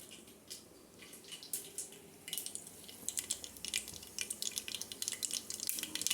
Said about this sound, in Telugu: చిట్పట్టలు ఆడుతున్నాయి కదా, మనం ఆనియన్స్ వేసేసుకుందాం